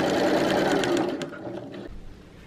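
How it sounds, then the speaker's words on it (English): A sewing machine runs steadily as it stitches bias binding along the top edge of a Christmas tree skirt, a close, continuous whirring hum that slows and quiets near the end. "I just sewed up the bias binding to just the top bit"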